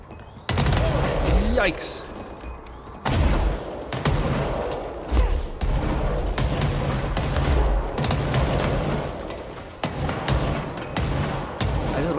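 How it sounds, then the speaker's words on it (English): Rapid bursts of gunfire and booming grenade blasts in the video game Control, loud and dense with sharp cracks and thuds filling most of the stretch, a player briefly reacting over the chaos. "Whoa, crap, those are grenades."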